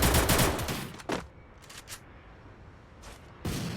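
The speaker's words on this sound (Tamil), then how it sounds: "275 புல்லட்ல ஜெயனு, 75 புல்லட் எனிமி மேல பட்டுரும் ஜெயனு" Gunfire in the Free Fire battle game: rapid bursts of automatic shots, loudest at the start, then scattered short volleys separated by quieter gaps.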